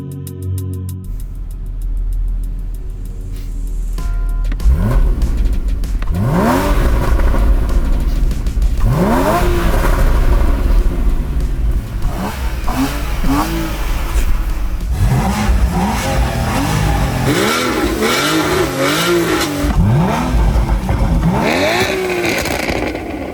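A Porsche 981 Boxster Spyder and a base 981 Boxster accelerating hard in a race, engines roaring and revving through repeated rising gear pulls, loud and close.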